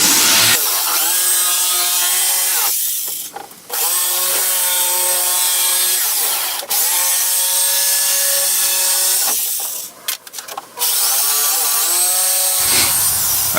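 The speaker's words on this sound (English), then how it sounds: "So now I go ahead and work on cutting the back out." Saw cutting out the back of a wooden seat: a loud, steady, close-up cutting drone that runs almost continuously, broken by two brief pauses before resuming.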